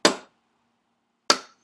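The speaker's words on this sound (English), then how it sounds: "I'm going to hammer my punch just on one side of that butterfly pin to get it started moving" A hammer drives a punch against the butterfly pin of a Tokarev TT33 pistol magazine, giving two sharp, close metallic taps about a second apart with silence between them.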